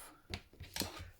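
Scissors snipping loose threads off a handmade fabric button, three or four quick soft close-up cuts spread over a second, quiet and without speech.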